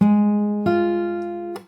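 Two sustained plucked chords on fingerstyle guitar from the Animal Crossing New Horizons theme ring out one after another, close and clean, with a third struck just as it ends.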